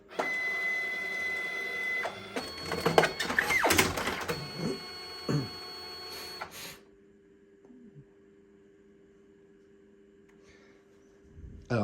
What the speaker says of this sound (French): Donc là, l'imprimante doit sortir 5 photos blanches.